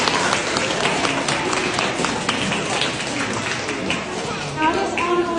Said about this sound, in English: So can you have a massive round of applause?